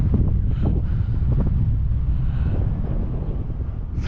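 Strong wind buffets the microphone in a constant, loud low roar during an XFly Swift model plane flight in heavy wind, with no other clear sounds.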